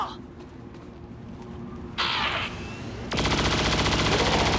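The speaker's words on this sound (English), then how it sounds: "We're gonna open up fire." Sustained automatic gunfire from XCOM 2 soldiers laying down saturation fire, breaking in loud and dense after quieter ambient game sounds and a short burst, continuing to the end.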